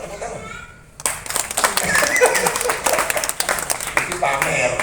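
An audience at an Islamic religious gathering for the Prophet's birthday (Maulid) bursts into clapping after a quiet start, loud and sustained with many hands, while voices and a child's chatter mingle underneath.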